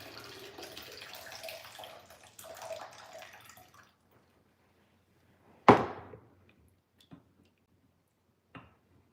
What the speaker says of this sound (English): I'm going to drain the water from my potatoes.